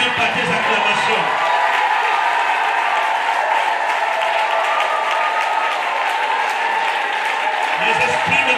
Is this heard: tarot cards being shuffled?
no